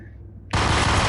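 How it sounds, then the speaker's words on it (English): Shotgun fire in the Max Payne shooter game, a sudden loud blast after a quiet moment that keeps roaring as a thick, sustained wall of gunfire. "That goes with freaking shotguns. Just pumping at each other."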